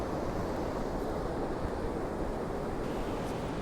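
Ocean waves with two-metre swell break on a rocky Scottish beach, a dense continuous roar of surf mixed with wind buffeting the microphone.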